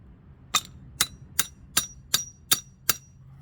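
Hammer striking a stuck bearing during a Mini Reaperz 420 motor teardown, seven sharp metallic blows at an even, steady rhythm, close and clear over a quiet background, with no talking.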